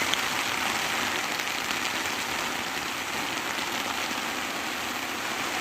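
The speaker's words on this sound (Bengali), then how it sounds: "আর বাইরে প্রচুর জোর বৃষ্টি হচ্ছে" Heavy rain and wind pound a camping tent from outside, a dense continuous hiss of drops drumming on the fabric with a low rumble underneath, steady and loud with no talk.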